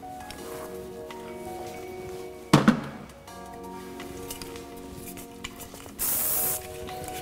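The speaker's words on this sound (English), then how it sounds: "Some hairspray." Hairspray hisses from an aerosol can in one short, steady burst during a wedding updo, alone near the end after a brief rustle of handling.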